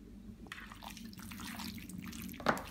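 Wet squelching and slapping as a chicken biryani marinade is mixed by hand in a bowl, faint, irregular close-up sloshes with one sharper splash near the end.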